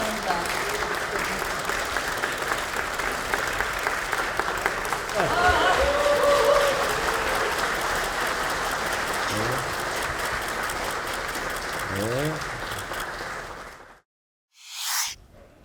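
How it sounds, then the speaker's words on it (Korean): Sustained applause from a crowd at a Democratic Party lawmakers' meeting as the presidential candidate and party leadership enter, dense and steady for about fourteen seconds with voices beneath, then cutting off abruptly before a short burst of speech. "큰 박수로 환영해 주시기 바랍니다."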